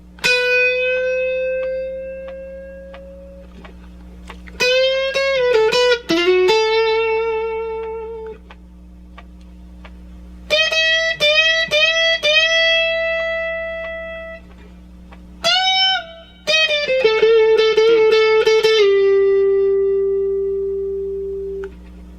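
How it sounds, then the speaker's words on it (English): Electric guitar solo with sustained, bending notes and quick picked runs, separated by brief pauses, loud and close over a low steady hum. "the only other thing that we have to learn is a short guitar solo that sounds like this"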